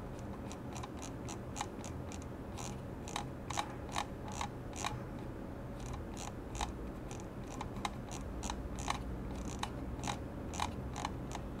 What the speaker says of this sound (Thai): ตรงสกอร์เมาส์เนี่ยเวลาเลื่อนเนี่ยเสียงมันจะไม่สม่ำเสมอเท่าไหร่